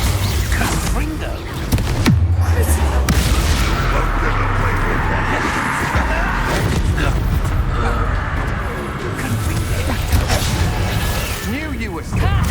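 Confringo blast spell in Hogwarts Legacy: loud explosive booms and bursts over a continuous, dense clamor of spell combat, with a voice speaking amid the noise.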